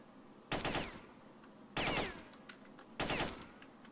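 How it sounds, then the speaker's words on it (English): Three short bursts of automatic gunfire in the video game STALKER: Shadow of Chernobyl, each a quick rattle of shots about a second apart, moderately loud over a quiet background with no talking. "Ooh, someone's shooting."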